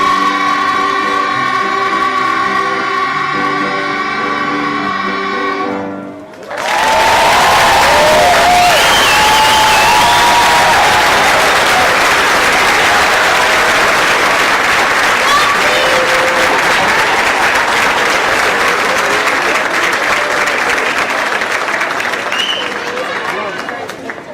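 Applause from the audience at an elementary school winter concert swells loudly just after the last sung notes end, then continues as a long, steady roar of clapping with some cheering from the crowd.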